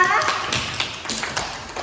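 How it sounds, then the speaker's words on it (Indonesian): Classmates applaud in a classroom, a short burst of scattered hand claps lasting under two seconds, moderately close, with children's voices mixed in. "Tepuk tangan pada teman kita"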